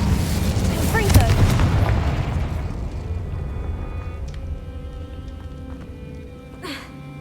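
A Confringo blasting spell explodes in the Hogwarts Legacy video game, a deep boom that peaks early and decays into a long rumbling tail, followed by a faint later crackle.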